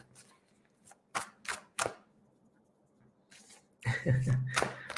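Tarot cards are shuffled by hand at close range, giving a few separate snapping riffles and then a denser burst of shuffling near the end, along with faint background hum.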